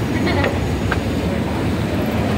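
A commuter train heading toward Dakshineswar rumbles steadily in a dense, continuous low roar, loud and close as from inside a carriage, with faint voices in the background.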